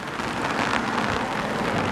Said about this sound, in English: it's actually raining kind of hard